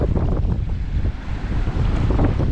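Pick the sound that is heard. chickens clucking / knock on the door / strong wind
strong wind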